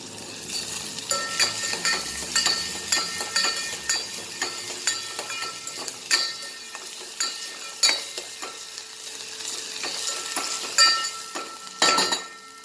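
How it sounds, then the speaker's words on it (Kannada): Crushed garlic and green chilli fry in oil with a continuous sizzle, broken by frequent clinks and scrapes of a utensil stirring in the pan, close up and without voices. "ಬೆಳ್ಳುಳ್ಳಿ, ಹಸಿ ಮೆಣಸಿನ್ಕಾಯನ್ನು ಜಜ್ಜಿಟ್ಕೊಂಡಿದ್ದೀರಲ್ಲ ಅದನ್ನು ಈ ಎಣ್ಣೆಯಲ್ಲಿ ಫ್ರೈ ಮಾಡ್ಕೊಳ್ಳಿ"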